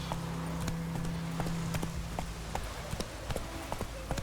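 Horse galloping in The Witcher 3, a brisk run of hoof clip-clops in quick repeated beats under game ambience, with a voice calling out over it.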